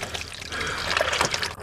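Water pouring and trickling out of the seized engine of a 1947 1½-ton dump truck, a close, uneven splashing flow with gurgles and drips, no voices.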